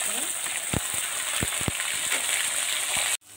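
Peas and onion stir-fry in a pan with a steady, close sizzle broken by a few scraping stirs, then cut off abruptly near the end.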